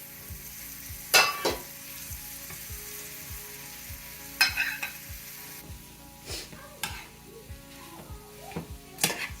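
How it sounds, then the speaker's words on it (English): Mashed potatoes being mixed into spices in a pan for Punjabi samosa stuffing, with intermittent spoon scrapes and knocks against the pan over a low, steady sizzle. "we're going to add in our mashed potatoes and mix all that in there"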